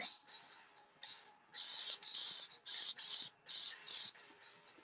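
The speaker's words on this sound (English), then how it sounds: "Grab my fancy spray adhesive." Spray adhesive sprayed from an aerosol can onto the back of a pattern, a series of sharp hissing bursts, short and longer, close up with brief pauses between them.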